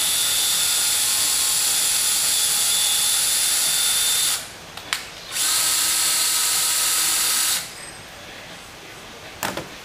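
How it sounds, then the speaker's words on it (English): A combination drill, tap and deburr tool cuts threads into PVC pipe with a loud, steady high-pitched whine, cutting out twice briefly before resuming, then stopping near the end. "this is a combination drill, tap, and deburr tool"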